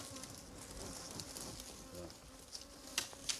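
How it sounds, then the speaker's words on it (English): Honeybees flying back toward a spot where their hive was removed buzz softly in the open air, a faint scattered drone with a few sharper passes close by. "Meanwhile, bees, which were foraging when the hive was removed, are returning."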